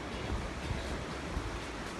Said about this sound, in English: This is the South Platte River.